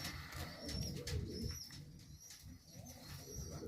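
Racing pigeons coo softly in a loft, low repeated throaty calls close by, with faint higher chirps in the background.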